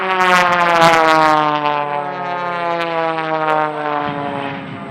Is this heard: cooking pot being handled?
no